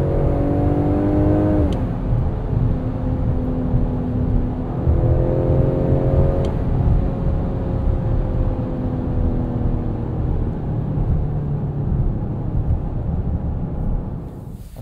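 A 2021 Ford Explorer ST launches hard, its engine whirring and climbing in pitch through rising revs before a gear change. The run repeats as another rising sweep that settles into a steady, loud cabin drone.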